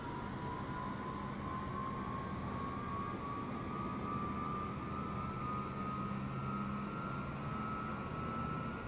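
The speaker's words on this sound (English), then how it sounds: "But that sounds like an engine firing up to me." Jet engine spools up on a Boeing 787 Dreamliner in Microsoft Flight Simulator 2020: a steady broadband roar with a whine that slowly climbs in pitch, constant and moderately loud, no voices.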